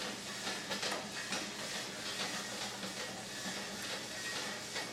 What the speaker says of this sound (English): The pot is dancing on me stove, waiting for that beers and clove